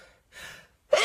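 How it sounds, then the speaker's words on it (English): A man's sharp sneeze bursts out loud and close at the end, preceded by a quick, soft intake of breath and a pause. "I got a sneeze coming on."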